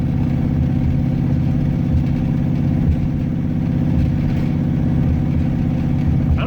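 A V8 car engine running on a lawn mower carburetor pulls uphill in third gear at about 2,000 RPM, a loud, steady low rumble with a throbbing beat that holds constant throughout, no voices.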